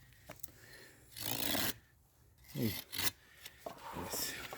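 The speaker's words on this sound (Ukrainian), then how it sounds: "Ну давайте спробуємо тоненьку гілочку відпіляти." A Tenju 240 hand saw cuts through a thin tree branch with a few short rasping strokes, close and moderately loud, with quiet gaps between the bursts.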